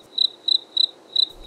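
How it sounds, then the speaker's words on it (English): Loud, close cricket chirps sound alone, five short shrill bursts in an even rhythm with a brief thud near the end. "crickets."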